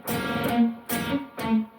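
An electric guitar plays a distorted riff, a palm-muted root note followed by a ringing chord hit, repeated three times in quick succession, close and loud with short gaps between.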